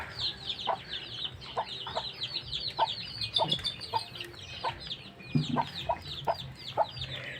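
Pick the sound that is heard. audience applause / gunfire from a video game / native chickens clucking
native chickens clucking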